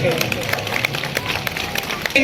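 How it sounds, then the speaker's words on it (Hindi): An audience claps for children at a school annual prize distribution day, a steady patter of applause with crowd chatter and a voice over it. "इन सब बच्चों के लिए भरपूर तालियां होनी चाहिए।"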